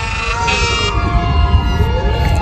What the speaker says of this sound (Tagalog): May mga fire truck na dumadaan pero malayo yan eh